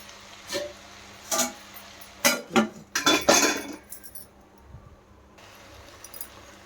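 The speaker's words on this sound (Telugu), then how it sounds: "మూత తీసి అప్పుడప్పుడు ఇలా కలుపుకుంటున్నాను." A metal spoon clinks and scrapes against a pot while stirring mixed vegetable curry, giving several sharp knocks in quick succession midway, then quieter stirring against a low steady kitchen hum.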